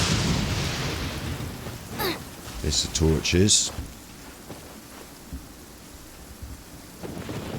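Steady rain hisses in the Genshin Impact game world, with rumbles of thunder in the middle, while someone talks over it.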